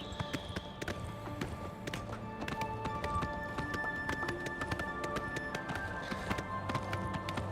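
Rhythmic clip-clop of horse hooves trotting steadily throughout in The Elder Scrolls IV: Oblivion Remastered, with a tonal background hum and faint occasional chimes.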